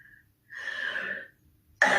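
A single short cough alone in a quiet room, followed a moment later by the sharp start of a second louder cough.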